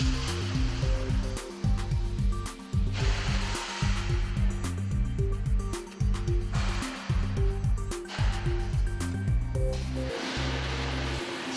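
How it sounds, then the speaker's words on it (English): A PEDAX B-Master automatic bar bending machine runs, a loud steady mechanical hum and hiss that swells and drops in repeating cycles, alone with no talk. "which I'll process further here on a PEDAX B-Master. The B-Master is an automatic machine for bars"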